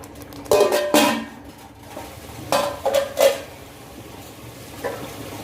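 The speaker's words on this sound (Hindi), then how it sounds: "इसको अच्छे से भूनेंगे आग तेज करके" Masala for drumstick curry stirred and roasted in a pan on high flame, with bursts of spatula scraping and clanking against the metal in several separate strokes over a faint low sizzle, close by and free of speech.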